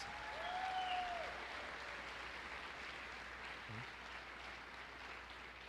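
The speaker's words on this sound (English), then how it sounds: "Please give a round of applause for Michaela Stanley for her accomplishments." Applause fills a hall at a 2021 graduation ceremony, a steady wash of clapping from the audience that starts fuller and tapers slightly while continuing throughout.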